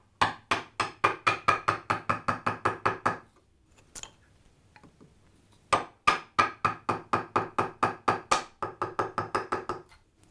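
A chisel struck in quick steady taps with a mallet, paring dovetail pins back to the line on a board held in a vise, two crisp runs of about a dozen sharp close knocks separated by a quiet pause.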